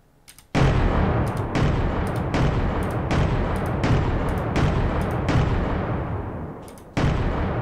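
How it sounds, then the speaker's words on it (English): Heavy cannon shots from an advanced cannon in the video game From The Depths boom one after another at a steady, drum-like pace, each a deep loud blast with a rumbling tail. "It's kind of the hard naval cannon."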